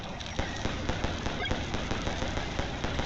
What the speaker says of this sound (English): Firecracker!